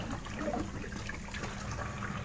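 Tap water runs steadily and faintly as vegetables are rinsed under it, a soft continuous splashing hiss with no talking.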